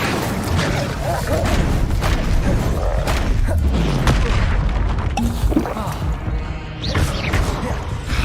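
Fire-spell blasts and crashes from the Hogwarts Legacy video game, booming thuds and smashes in a dense, continuous combat mix under game voices calling out spells.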